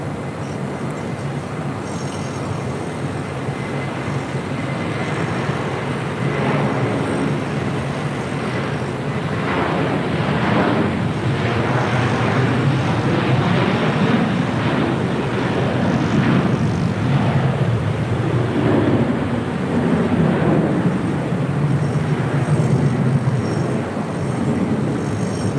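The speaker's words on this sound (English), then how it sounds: "Next departure here on the south side is JetBlue Airways Flight" A JetBlue Airways A321 jet departs LAX from the south side, its engines building into a steady, loud roar that swells and holds through the clip with no talk over it.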